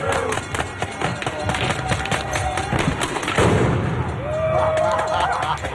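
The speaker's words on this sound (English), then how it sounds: "Flashbangs being deployed." Police flashbangs go off at a May Day protest in Olympia as a run of sharp bangs and thuds amid crowd noise, moderately distant. Someone talks throughout.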